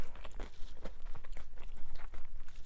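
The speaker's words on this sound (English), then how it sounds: "You're really gonna chew this tofu skin." Chewing thin, soft but chewy tofu skin that was not boiled, during a vegan mukbang: close, wet bites and crunchy mastication repeat steadily throughout, with no talking.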